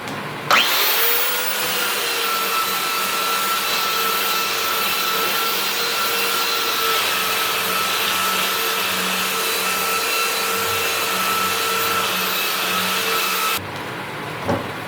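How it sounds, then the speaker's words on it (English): A power sander whines continuously against a wooden cutting board for about thirteen seconds, loud and close, with a steady buzzing tone before it switches off. "Now we'll start sanding."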